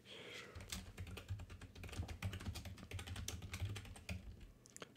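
Rapid, fairly close typing on a computer keyboard, with quiet irregular key clicks running in bursts and no talking.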